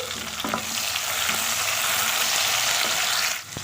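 Round tomato slices drop into a hot frying pan of tempering for hotel-style moong daal, setting off a loud, steady sizzle that runs almost the whole time and eases near the end, with no talking.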